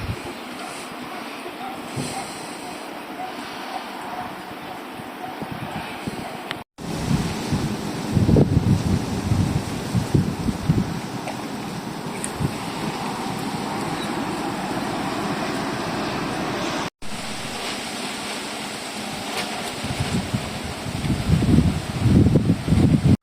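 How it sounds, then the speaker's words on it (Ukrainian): Strong storm wind roars and buffets the microphone in gusts, with a steady rushing noise and low rumbling bursts; no voices. "Частково дує сильний вітер."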